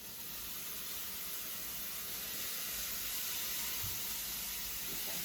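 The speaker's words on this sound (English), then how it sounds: "Thaddeus is stirring around his rice" Leftover fried rice sizzling in a pan while being stirred, a continuous steady hiss close by with faint scraping underneath.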